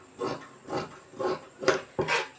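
Scissors snip through cloth for sewing, giving about five short, close cutting strokes with brief gaps between them and no talking.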